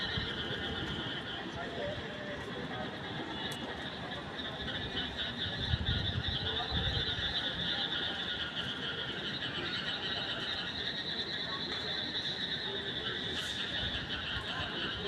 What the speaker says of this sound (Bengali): ব্যাঙের ডাক শুনলে কিন্তু ঘুম আসে অনেকটা।